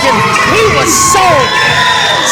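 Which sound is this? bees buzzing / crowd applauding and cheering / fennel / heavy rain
crowd applauding and cheering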